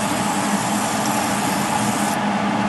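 Cooking spray hissing steadily onto a hot griddle while making flour tortillas, a continuous broadband spray lasting a few seconds, close and fairly loud with no talk.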